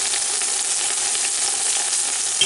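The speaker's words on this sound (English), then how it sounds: "we're searing the meat first" A 2.97-pound rump roast sears in a Power XL pressure cooker with a steady, close, bright sizzle and crackle that holds unbroken throughout.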